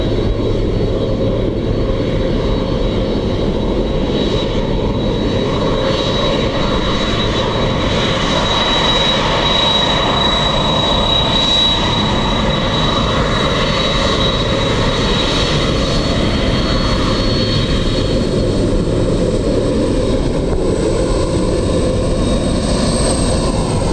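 Airliner engines roar steadily as a plane lands on runway 28 left at Dublin Airport, a loud continuous drone with a sustained whine and no pauses.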